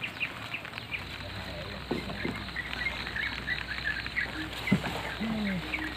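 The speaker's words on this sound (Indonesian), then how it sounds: "Ini masih hujan, bro." Light rain patters steadily outdoors during a longline fishing trip, a constant soft hiss with scattered small taps and a few faint squeaks over it.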